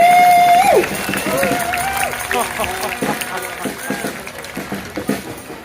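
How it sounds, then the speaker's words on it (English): Outdoor rally crowd at a No Kings protest cheering and clapping for a performer, a loud sustained roar with scattered claps and whoops, voices mixed through the noise. "Let's hear it one more time for Camilla!"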